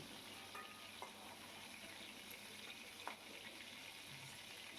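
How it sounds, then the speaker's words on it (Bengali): Prawns fry in mustard oil in a wok with a continuous, even sizzle, fairly quiet and close, with a few faint stirring taps. "চিংড়ি মাছগুলোকে বেশ লাল লাল করে ভেজে নেব"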